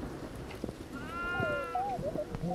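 A goat bleats in the horror video game Devour, a wavering drawn-out cry heard fairly close over a low game ambience, with a few faint thuds around it.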